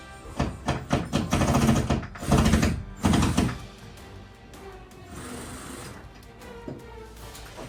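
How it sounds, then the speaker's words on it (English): Screws driven into a wall while mounting a LEGO mech collection display, heard as several loud bursts of a power drill or driver whirring in quick succession, then a quieter stretch of handling noise. "so let's just get these screws in first"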